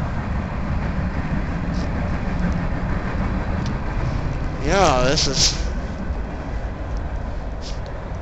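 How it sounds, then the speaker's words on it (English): A train rumbles along in the distance on a snowy winter day, a steady low roar under outdoor noise, with a brief rising-and-falling tonal sound midway while people speak briefly. "It's a train that's going off the distance there."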